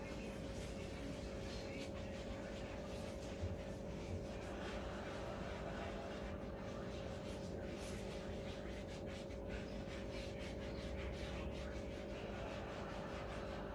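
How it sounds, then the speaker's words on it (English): Hands being scrubbed with a soapy scrub brush during a sterile handwashing routine: a steady, faint, continuous rubbing and swishing alone, over a constant hum. "we're going to grab our soap and our scrub brush and begin washing"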